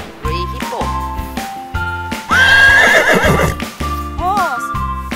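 Plastic animal toy plays a loud electronic horse neigh, a rising then shaky whinny, mixed with clip-clop hoof sounds and jingly tones, close and clear.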